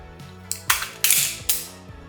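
Handgun magazine dropped and reloaded at full speed: a quick run of sharp metallic clacks and clicks, three or four distinct loud impacts over a low hum, with no talking.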